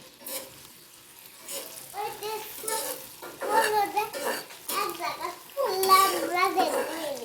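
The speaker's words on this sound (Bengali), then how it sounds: "এই যে আলু ভাজির জন্য মানে পেঁয়াজ মরিচ ভেজে নেওয়া হচ্ছে।" Onion and green chillies fry and sizzle in a pan for a Bangladeshi potato bhaji while a spoon stirs, with a child and an adult talking loudly over the cooking throughout.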